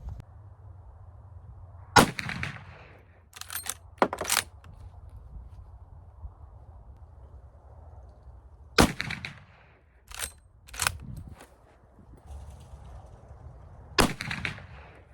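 Shots from an 1886 Browning .45-70 saddle ring carbine at an outdoor range, a handful of loud sharp booms spaced seconds apart, each with a brief decaying echo over quiet background.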